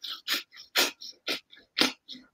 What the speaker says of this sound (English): We're going to do 50 breaths through the nose.